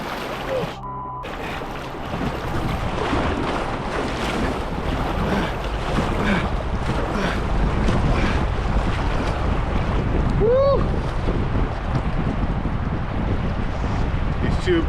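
Turbulent water where two braids of a Yukon river collide into a boil with ripping whirlpools, heard as a loud, steady churning rush mixed with wind buffeting the microphone, a brief voice early on.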